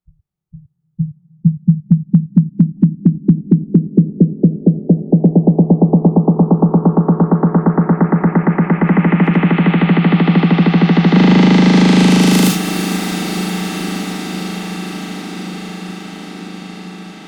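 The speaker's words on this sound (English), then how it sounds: "But if I slowly bring it up, more and more reverb." A pulsing synth beat in FL Studio gets steadily washier as automated reverb swells, the repeated hits blurring into a sustained roaring tail that then decays.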